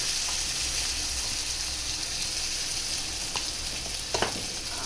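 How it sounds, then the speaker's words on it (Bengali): Potatoes fry in oil left over from frying fish, giving a constant close sizzle and crackle with a few brief scraping stirs near the end. "সেই তেলে নিয়ে আলুটা দিয়ে দিয়েছি, আলুটা হালকাভাবে ভেজে নেব।"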